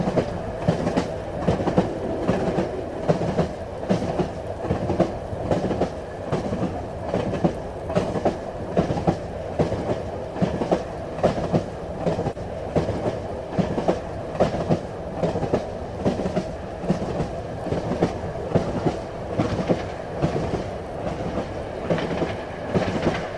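A train crossing Rannoch Moor in Scotland rolls steadily along the rails, wheels clacking over the joints in a regular rhythm beneath a constant rumbling drone.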